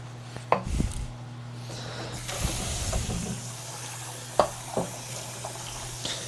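Beef sizzling in a pan while making homemade burritos, a steady hiss running throughout with a few sharp knocks and clatters.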